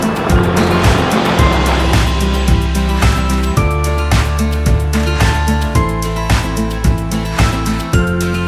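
A vehicle cruising along the wide gravel Woodtick Trail through a Minnesota forest, its engine drone steady and loud with repeated rumbling surges and faint tire crunch throughout, no voices.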